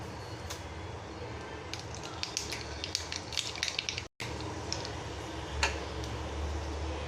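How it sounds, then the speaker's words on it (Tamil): Mustard seeds crackle in hot oil for a Tamil bonda gravy tempering: quiet, scattered sharp pops and ticks over a soft frying hiss, with a brief gap midway. "இப்போ எண்ணெய் சூடாயிடுச்சு. கொஞ்சமாக கடுகு சேர்த்துக்கலாம்."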